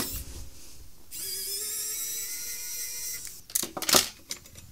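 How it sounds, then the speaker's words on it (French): Small screwdriver turning a screw out of a tiny metal plate on a Sega Game Gear console, a steady whirring grind followed by a few sharp metallic clicks and rattles as the part comes loose. "je vais dévisser la petite plaque en métal"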